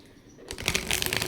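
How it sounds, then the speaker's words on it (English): A brief riffle of shuffled tarot cards starts after a quiet moment and continues as a soft, crisp flutter. "I, out of habit, just shuffle a little bit more"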